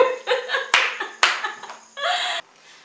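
A few people clap hands in a small indoor room, bursts of close, crisp claps in uneven groups, mixed with light laughter and a brief louder patter near the end before it fades.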